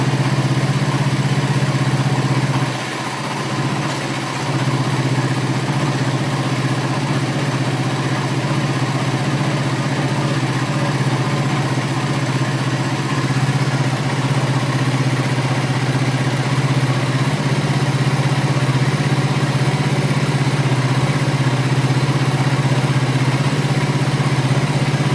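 A Suzuki GSX-R150 motorcycle engine idles steadily after a throttle body service, a loud continuous low hum with a brief dip near the start, running alone with no talk.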